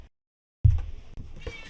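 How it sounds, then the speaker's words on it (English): A pet cat gives a short, loud meow right up close after a brief silence. "there's a cat screaming at me"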